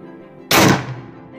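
A single Bushbuck Carbine .45 air rifle shot on low power, one loud sharp crack close by with a short decaying tail, otherwise quiet.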